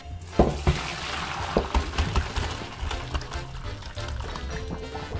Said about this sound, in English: We're just gonna strain these in the sink.